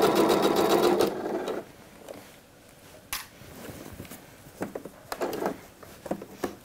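A sewing machine runs forward along a coat's seam line, stitching piping with lining, in a loud steady burst for about a second, then falls quiet with scattered soft clicks and handling taps.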